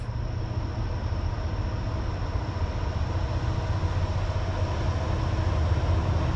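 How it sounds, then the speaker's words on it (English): A red railway locomotive passes on the Lehigh Line, a steady low rumble and rolling roar that stays continuous and slowly grows louder as it nears, with no voices. "I see a red locomotive."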